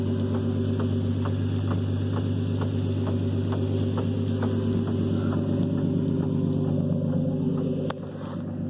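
A car with a blown differential, heard from inside the cabin as a steady engine drone with low hum, a faint regular ticking clicking along through it, and a brief thump near the end.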